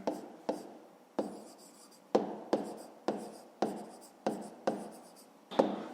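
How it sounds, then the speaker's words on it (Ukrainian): Pen writing a math solution in a school notebook, close and quiet, with about ten crisp strokes each starting with a sharp tap and trailing off in a soft scratch, spaced at irregular intervals. "Так, записуємо це."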